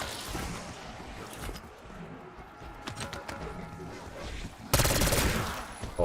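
Pistol shots from a Kompakt 92 in the video game Black Ops 6, sparse cracks over a low background, then a sudden louder burst of rapid fire near the end.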